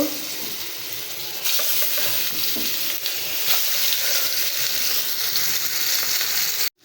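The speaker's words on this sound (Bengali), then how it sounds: "এই কড়াইয়ের মধ্যে এখন আমি মাছটা ভেজে নেব এই তো তেল গরম এখানে হয়ে গেছে" Fish frying in hot oil in a wok, a steady loud sizzle and crackle that swells once the fish goes in and carries on unbroken, with faint stirring scrapes and no talk.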